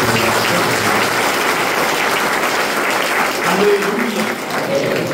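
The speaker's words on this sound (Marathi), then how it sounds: "आपण टाळ्या वाजवत" An audience at a church service clapping together in a dense, steady burst of applause that holds loud and close from start to finish, with voices mixed in beneath it.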